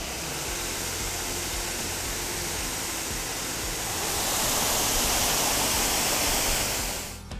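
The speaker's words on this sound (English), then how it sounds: "This is the Koro Koro waterfall on the Waikaremoana track." Koro Koro waterfall on the Waikaremoana track in New Zealand roars in a dense, continuous rush of falling water that swells slightly louder partway through, with no voices.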